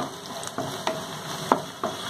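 Curry leaves crackle and sizzle in hot oil with softened onions for a tomato chutney, a steady close fry broken by several sharp pops and spatters.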